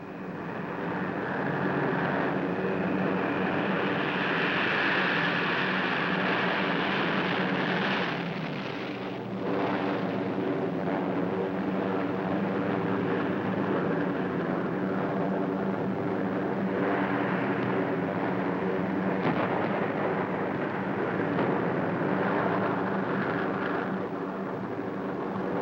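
Waves of WWII bomber aircraft roar overhead in a continuous, heavy drone of engines that holds steady and loud throughout, with a deep rumbling swell midway.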